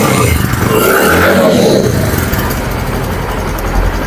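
A used Bajaj Discover 110 cc motorcycle engine idles nearby, a steady low rumble that stays loud and even from start to finish.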